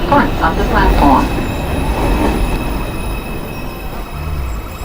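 A Manhattan-bound 2 train in an NYC subway video game rumbles steadily with rolling wheel noise and a faint metallic squeal, loud and continuous throughout.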